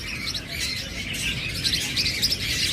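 A pair of creamino lovebirds chirps repeatedly in high, bright tweets, steady and fairly close throughout, with no voices.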